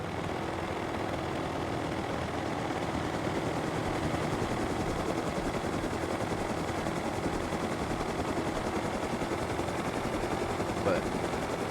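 A helicopter in a video game gives off a steady, continuous rotor and engine drone that stays at an even level throughout.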